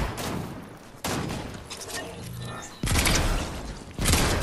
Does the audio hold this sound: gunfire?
yes